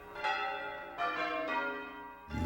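Church bells from a carillon ring out in three distinct strikes with long ringing decays, clear and moderately distant, with no talk.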